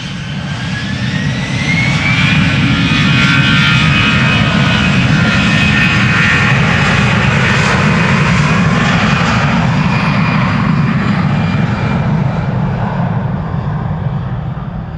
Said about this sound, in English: 989 is the flight number, A319 to Frankfurt.